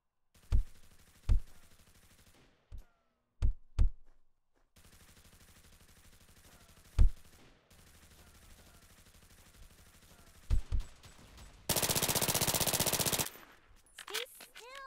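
Gunfire in the shooter video game Coercion: sharp, loud single shots spaced irregularly, some in quick pairs, then a sustained burst of rapid automatic fire near the end, with quiet gaps between.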